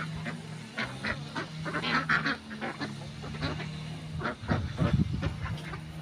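A flock of ducks quacking and honking on a Romanian poultry yard, a steady chorus of nasal calls close by, with a low mechanical hum underneath and brief voices in the background.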